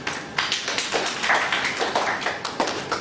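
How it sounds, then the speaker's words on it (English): An audience applauds at a study circle meeting on GST invoice management, a dense patter of claps that swells steadily and holds for several seconds, close and moderately loud with no talking. "Round of applause to sir."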